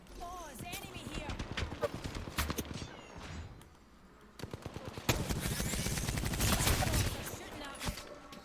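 Rapid bursts of automatic gunfire ring out in an Apex Legends ranked match, sharp repeated cracks in clusters that grow louder and denser toward the end, mixed with game sounds and a voice talking over them.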